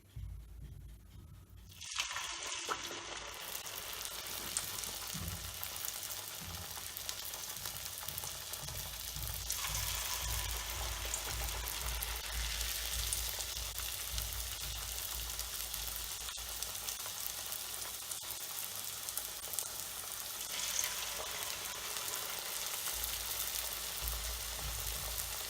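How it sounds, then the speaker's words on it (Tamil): Flattened urad dal thattai vada deep-fry in hot oil, a steady, dense sizzle that starts abruptly and continues unbroken for about twenty seconds, close and moderately loud, with occasional faint stirring and no voices. "எண்ணெய் சூடானதும் எண்ணெயில் போட்டு நல்லா பொரிச்சு எடுத்துருங்க"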